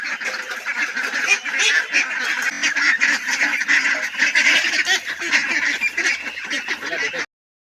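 Small ducklings at a rural pen honk and quack nonstop while feeding, a dense, loud chorus of overlapping calls close by, filling the scene without pause until it cuts off abruptly.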